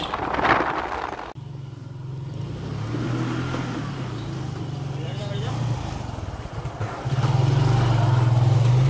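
Motorbike ride with a brother on the way to Naihati: the engine hums steadily and close, then rises louder near the end, while a voice talks over it.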